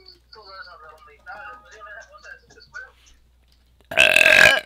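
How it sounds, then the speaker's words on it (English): A loud, raspy burp bursts out alone at the end, following a stretch of casual talk from a person nearby. "Did you like that burp"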